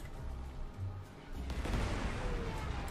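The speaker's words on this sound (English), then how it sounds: "I'll just go and bomb these" Bombing run in the World War II strategy game Panzer Corps 2: a low rumble, then from about 1.4 s a dense, loud burst of explosions and crackling blasts that rolls on to the end, with no talk.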